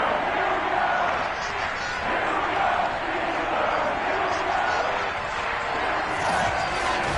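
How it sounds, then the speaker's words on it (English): A sold-out Heinz Field crowd in the Madden 22 football video game roars in a dense, steady wash of cheering that continues throughout, with talk over it. "Big Ben Roethlisberger greeted by this sold-out Heinz Field crowd."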